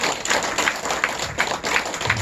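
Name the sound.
audience applause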